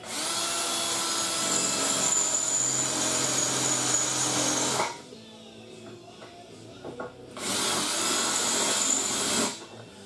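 A power drill boring out spot welds in sheet metal on a Triumph TR3, loud grinding whine in two long bursts separated by a few seconds of quieter pause with faint clinks.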